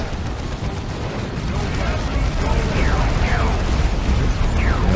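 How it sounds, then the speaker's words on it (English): Cyclone Missile Barrage explosions from the Warhammer 40k Dawn of War 2 Retribution video game roll out as dense, continuous booming rumble and crackling blasts, loud and sustained, with faint whooshing streaks of incoming missiles. "Another Cyclone Missile Barrage."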